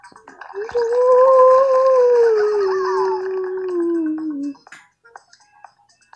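A cartoon dog in the video game PK XD gives one long, loud, sliding howl that falls slowly in pitch, followed by a few faint clicks and small game sounds.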